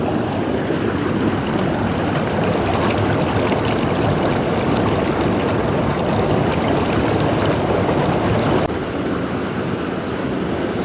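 Omnitub Duo Extra 48-jet deep soaking whirlpool bath running only on its air jets, a loud, continuous churning roar of bubbling water, steady from start to finish and easing slightly near the end.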